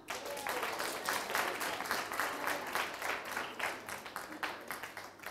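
Steady crowd applause from a school group of candidates at a cultural centre ceremony, many hands clapping continuously at moderate volume for about five seconds.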